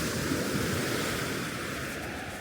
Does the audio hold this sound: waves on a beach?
yes